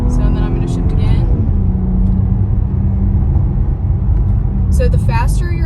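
BMW engine droning and climbing in revs under acceleration, then dipping as the paddle shifters change gear, a loud steady cabin rumble with someone talking over it.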